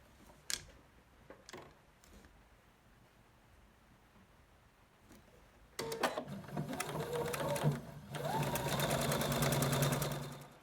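A few quiet clicks and handling noises as quilt block pieces are positioned, then a sewing machine starts up and stitches the pieces together in a steady, fairly close mechanical hum.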